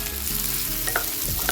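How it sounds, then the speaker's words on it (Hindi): Chilli chicken and vegetables stir-fried on high flame crackle with a close, loud sizzle, broken by quick spatula scrapes and clinks against the pan, with no talking. "हाई फ्लेम पर चलाते हुए इन्हें थोड़ा सा पकाएंगे"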